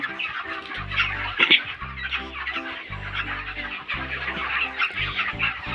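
Broiler chickens at a poultry farm, about twenty-eight days old, cluck steadily as a dense, overlapping flock chorus, with brief louder calls rising out of the continuous murmur.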